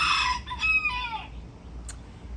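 A rooster crows once nearby, a loud strained call that falls off at the end, followed by a faint brief chirp over quiet background hum.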